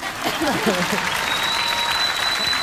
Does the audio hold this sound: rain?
no